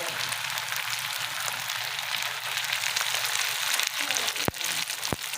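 Chicken and potato rolls frying in hot oil give a steady, close bubbling sizzle throughout, with a couple of sharp clicks near the end.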